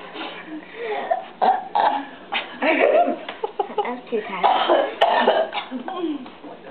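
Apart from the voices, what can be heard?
child burping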